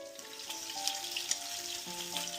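Salmon sears in a hot pan with a steady, close sizzle and crackle, with a few faint clinks over it and nobody talking.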